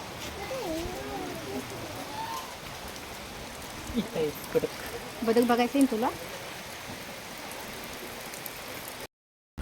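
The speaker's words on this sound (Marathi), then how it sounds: "पाऊस काय आज बंदच नाही होत वाटतं" Steady rain pours over an open farm field that is fully soaked, a constant wash of hiss running through the whole stretch, with people talking and a voice now and then over it.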